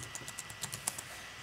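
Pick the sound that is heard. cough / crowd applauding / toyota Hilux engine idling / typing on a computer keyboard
typing on a computer keyboard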